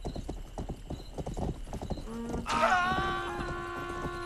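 Horse hooves gallop in a rapid clip-clop rhythm on a road in a video game while fleeing police, a close steady patter followed by a brief whinny and sustained tones near the end.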